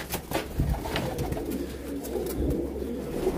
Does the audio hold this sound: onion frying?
no